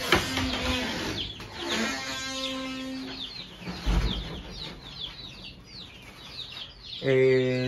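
Chickens cluck and call in a poultry coop holding French hens and chicks, with dense overlapping clucks and squawks close by throughout and a louder burst of calls near the end.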